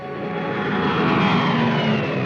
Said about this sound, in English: Weather planes such as this Mosquito